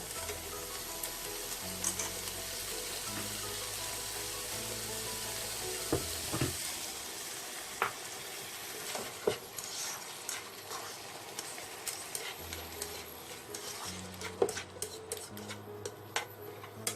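Ampalaya and pork liver fry in a pan with a steady soft sizzle, broken by scattered clicks and scrapes of stirring utensils, close and fairly quiet, with no talk.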